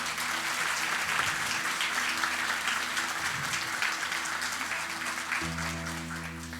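Steady applause from a church congregation fills the space for several seconds, fading slightly toward the end as low sustained tones from an organ or keyboard enter.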